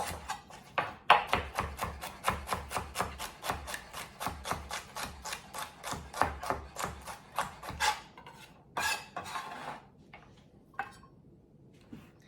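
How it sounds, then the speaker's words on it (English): Celery chopped with a knife on a board, a rapid, even run of close, crisp cuts for about eight seconds, then a few slower scattered taps. "Then we're going to cut our celery, and we can add that into the same bowl with the onions"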